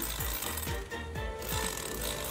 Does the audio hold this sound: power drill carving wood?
yes